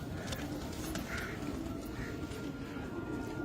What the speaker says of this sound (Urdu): یہ ہمارے پاس جو وائٹ ہے نا، وائٹ سلیٹی خاکی کبوتر، یہ اسی کی بریڈ ہے